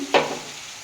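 Fish head and Malabar spinach stems frying with turmeric in a pan, a sudden sizzle burst as something hits the hot oil, then a steady hiss fading slightly over under a second, with no talking.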